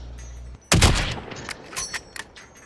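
Sniper rifle shot in the video game Call of Duty Warzone, one sharp loud crack followed by a few fainter distant pops and clicks.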